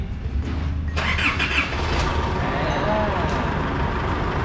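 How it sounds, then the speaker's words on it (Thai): A modified pickup truck, unstarted for about ten years and with fuel just primed, cranks and catches into a steady close engine run, with someone talking over it. "เดี๋ยวจะลองสตาร์ทครั้งแรกนะครับเดียวติดเลยนะ"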